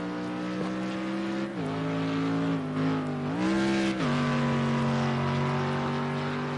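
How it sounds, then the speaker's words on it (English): A Mercedes-Benz GT3 race car engine in a racing video game drones loud and steady, its pitch dipping and climbing through gear changes as it powers toward the start-finish line, with no voices over it. "That's a lovely sounding Mercedes-Benz powering up to the start-finish line to set his newest time"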